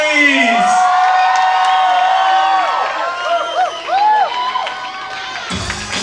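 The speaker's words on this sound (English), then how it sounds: "All right, everybody, make some noise." A crowd cheers and whoops loudly, many voices shouting and yelling in overlapping rising calls, including children's shrieks, with a little clapping toward the end.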